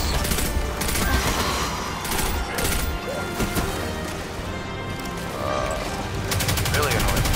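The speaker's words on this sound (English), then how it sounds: "haven't noticed the snipers shooting at him" Sniper rifle shots in the Destiny 2 shooter ring out among dense, constant game combat noise, with sharp cracks scattered through the busy mix at a steady loud level.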